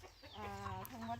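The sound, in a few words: chickens clucking on a farm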